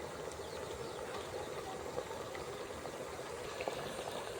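Water boiling under a batch of bhapa puli pitha steaming in a covered pot. A faint, steady bubbling hiss runs throughout with a few soft pops.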